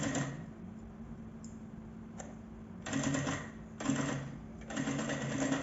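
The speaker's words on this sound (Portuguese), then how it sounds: "Retrocesso, com cuidado, encaixa bem a etiqueta e tampa a parte de baixo." A sewing machine runs in short bursts of rapid stitching with brief pauses between, backstitching at the start and end of a small front bag pocket with a label tucked in, close and fairly quiet.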